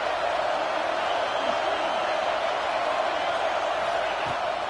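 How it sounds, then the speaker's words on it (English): Dense, steady roar of a football stadium crowd cheering on a third-down play, loud and sustained throughout with no clear breaks. "Decibels rising as the crowd gets behind this defense on 3rd down"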